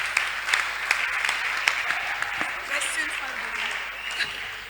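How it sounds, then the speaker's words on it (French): Audience applause fills a French panel session on commerce and finance, a steady wash of clapping with a few sharper peaks, held at moderate loudness throughout. "Acclamons encore pour elle"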